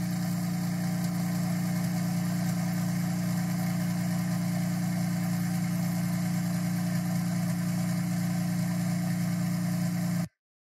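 An Acura TLX Type S engine idling with no radiator or condenser fitted, a steady, even drone with a strong low hum that holds unchanged for about ten seconds and then cuts off abruptly.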